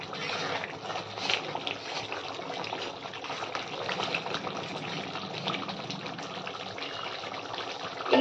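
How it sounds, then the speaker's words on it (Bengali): Water is poured into a frying bhetki fish curry, a steady gushing trickle that runs on for several seconds at moderate loudness, with no other sounds competing. "এই পর্যায়ে আমি এতে একটু জল মিশিয়ে নেব।"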